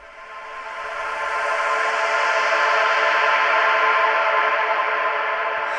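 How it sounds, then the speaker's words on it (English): A sustained synth tone drenched in big reverb from a progressive house track swells in over a second, holds bright and lush, then begins to fade, with no beat beneath it. "Big reverb on that."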